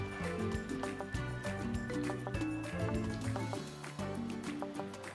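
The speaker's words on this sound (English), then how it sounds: "pour in my water" Water splashes and trickles as it is poured into a pot of jollof rice cooking in beef broth. The liquid sounds are fairly soft and sit under steady background music.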